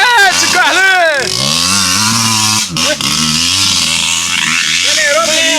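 Engine of a motor vehicle revving hard and loud up close, its pitch sweeping up and down through repeated throttle blips, while voices shout over it.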